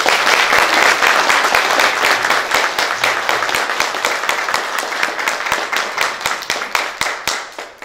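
Audience applause at a concert, a dense burst of many hands clapping that thins out over several seconds into sparser, more distinct claps toward the end.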